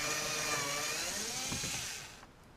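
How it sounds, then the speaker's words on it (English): A power drill whirs while backing a screw out of a 2012 Ram 1500 door panel, a close, steady motor whine that slides lower in pitch and fades as it spins down near the end. "Get my drill, remove that screw."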